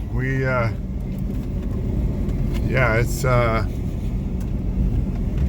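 Car cruising along a road near Belén, Guatemala, a steady low engine and road rumble heard from inside the vehicle, continuous beneath someone talking in short bursts.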